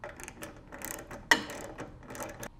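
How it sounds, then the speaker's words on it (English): A ratchet with a 1/2-inch socket tightens bolts during assembly of a DR Leaf Vac PRO MAX 450, giving faint, close clicking and metallic ticks with one sharper clack midway. "you can come back through with a 1/2-inch socket and ratchet and tighten them down"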